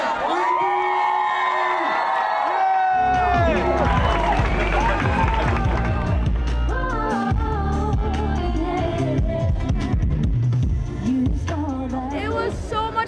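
A large crowd at a band concert at Festival Lumen 2025 cheers, whoops and applauds loudly and continuously after sustained music tones fade, with shouts rising over the dense roar.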